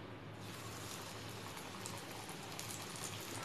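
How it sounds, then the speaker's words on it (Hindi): Vegetable pakoras fry in a pan of hot oil, giving a soft, continuous crackling hiss like steady rain, faint and even throughout. "अब मैं वेजिटेबल पकौड़ों को फ्राई कर लूँगी।"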